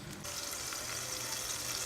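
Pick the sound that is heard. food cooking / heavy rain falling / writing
food cooking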